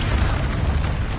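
Expulso spell blast in the Hogwarts Legacy video game, a dense continuous low rumbling boom that stays loud and steady throughout, with no talk over it.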